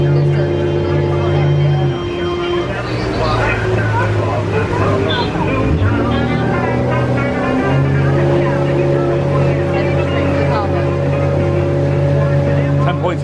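The Sassagoula River Cruise boat motors along at Walt Disney World with a steady engine drone, while people chatter and talk under the constant hum.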